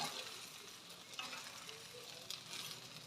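Shrimp fried rice stir-fried in a pan with a steady soft sizzle, broken by a few louder scrapes and tosses of the spatula, heard close and without talk.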